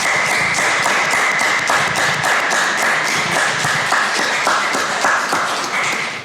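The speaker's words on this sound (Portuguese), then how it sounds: "Eu acho que merece uma salva de palmas" An audience bursts into sustained clapping, loud and dense, keeping a steady level for several seconds before starting to thin out at the end.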